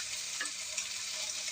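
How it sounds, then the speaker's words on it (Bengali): Khichuri being stirred and mixed in a hot pan, a steady soft sizzle with faint scraping of the spoon running through the short stretch, no talk. "সবগুলা খিচুড়ি দিয়ে সুন্দর করে নেড়ে মিক্স করে ফেলতে হবে"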